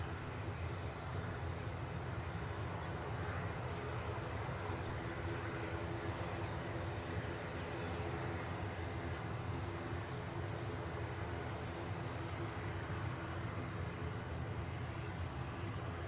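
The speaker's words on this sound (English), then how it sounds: "plane about to land" A jet airplane on final approach to land at Edinburgh Airport gives a steady, distant roar that holds evenly throughout with no voices.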